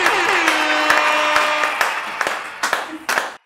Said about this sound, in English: Guys, round of applause for Amal.